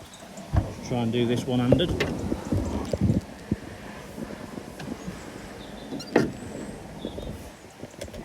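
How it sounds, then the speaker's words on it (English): Bonnet release on a 2015 Isuzu D-Max 2.5 TD Blade automatic pickup popping with a single short clunk, heard under someone speaking nearby and faint outdoor wind. "Pop the bonnet."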